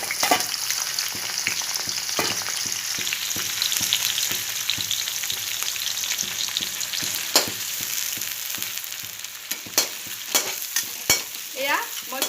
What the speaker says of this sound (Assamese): এয়া মই পিঁয়াজ আৰু জলকীয়া এনেকৈ ভাজি আছোঁ।